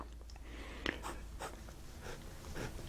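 Parker fountain pen filled with KWZ Azure #4 ink gliding across paper in light scratchy strokes, quiet and close, with one brief louder tap partway through.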